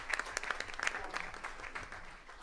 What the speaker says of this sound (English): So let's just applaud them one more time.